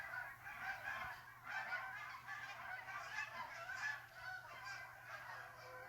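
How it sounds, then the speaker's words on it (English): Geese honking outdoors, a faint flock calling repeatedly in overlapping bursts for several seconds, distant and without talk. "Honk honk. Geese are back."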